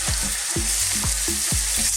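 Bite-sized beef chunks frying in spiced oil for an Indian beef and tomato curry, a steady loud sizzle with rhythmic scraping stirs of a spoon in the pan.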